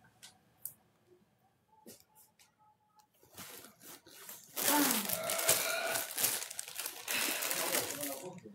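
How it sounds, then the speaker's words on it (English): A plastic water bottle pulled from a dumpster crinkles and crackles loudly as it is handled, following a few scattered quiet clicks and rustles. "Oh, I found one lonely water bottle."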